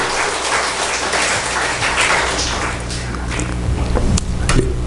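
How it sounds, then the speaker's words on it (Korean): A church congregation claps together during a revival sermon, dense and loud clapping filling the room, thinning toward the end with a few scattered sharp claps. "우리 럭키세븐 성도들에게 박수 한번 쳐줍시다"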